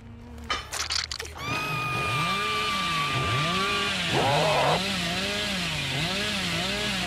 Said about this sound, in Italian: andate velocemente con la motosega